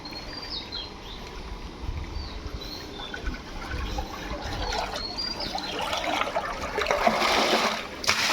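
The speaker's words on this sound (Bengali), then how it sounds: "প্রতি ট্যাঙ্ক থেকে মোটামুটি দু তিন মিনিট করে পানি ফেলানো হয়" Dirty water drains from a biofloc fish tank, gushing and trickling steadily, growing louder toward the end, with faint bird chirps in the background.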